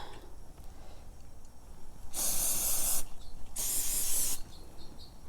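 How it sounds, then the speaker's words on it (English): An aerosol can sprays leather protector onto a Louis Vuitton vachetta leather bag in two separate hissing bursts of about a second each, close and clear against a quiet room. "So I'm going to go ahead and spray this now."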